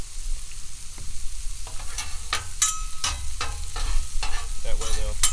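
Vegetables sauté in oil on a Blackstone griddle, a steady close sizzle broken by repeated scraping and clacking strokes of a spatula against the flat top.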